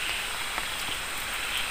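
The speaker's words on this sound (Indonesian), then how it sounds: "tambah hujan teman-teman ya." Steady rain falls on surfaces around a hut in a remote outdoor spot, a constant hiss with scattered individual drop taps and no talking.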